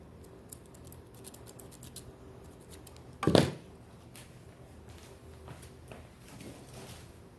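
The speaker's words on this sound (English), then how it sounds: "if your scissors are sharp, you can always retrim" Sharp scissors give a single crisp snip as they trim the cord of a beaded bracelet, close and distinct amid faint handling sounds.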